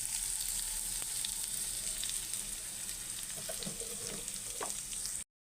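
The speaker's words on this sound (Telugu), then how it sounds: "రెండు మీడియం సైజు ఉల్లిపాయలు అయితే తీసుకొని వేయించుకోవాలండి దీనిలో కొంచెం ఆయిల్ యాడ్ చేసుకోవాలి" Two medium onions fry in oil in a pan, a dense, steady sizzle that runs alone and close with a few stirring clinks before it cuts off.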